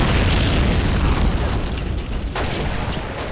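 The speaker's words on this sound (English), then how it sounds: "There goes the Katyusha fire." Continuous dense rumbling of Katyusha rocket barrage explosions in the video game Men of War: Assault Squad, loud and sustained throughout with overlapping booms and no pause.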